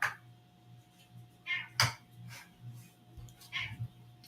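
BP the cat, a pet on a morning home show, gives a few brief meow-like calls, one sharper cry standing out, over a steady low hum in a quiet room.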